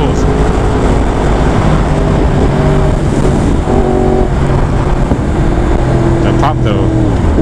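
A Yamaha R1 motorcycle pulls hard under acceleration, its loud, steady engine note rising with a pop from the exhaust, while a rider talks over the roar.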